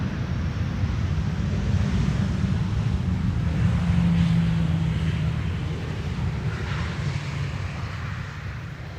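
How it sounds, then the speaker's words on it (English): Delta Airlines flight 136 from Detroit, Michigan arrives at Schiphol runway 18R, its jet engines a steady, moderately loud roar with a low rumble that swells briefly and then eases off. "Next up is going to be Delta Airlines Flight 136, arriving from Detroit, Michigan"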